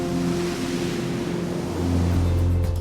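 Pacific Ocean surf washing onto the beach at Garrapata State Park in Big Sur, California: a steady, loud broadband wash with a low rumble underneath that swells near the end. No voices.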